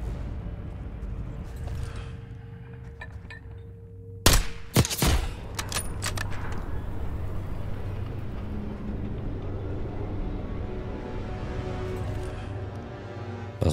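A quick burst of several sharp gunshots cracks out midway over a low engine rumble and background game noise, with a couple of fainter shots later, in Call of Duty: Black Ops 6.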